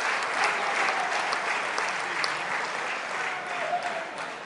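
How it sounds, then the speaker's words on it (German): Spectators at a German league table tennis match in the 2012/13 season break into dense, sustained applause after a great point. The clapping stays loud and steady for the whole stretch, with a faint crowd murmur beneath it. "Und die Zuschauer rasten aus."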